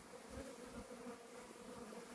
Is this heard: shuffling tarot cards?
no